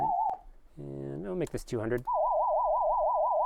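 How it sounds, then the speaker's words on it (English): SuperCollider synth built on frequency modulation: a brief steady tone, then a speaking voice, then a loud, continuous warbling tone that rises and falls rapidly like a police siren. "We got kind of a police siren thing happening here."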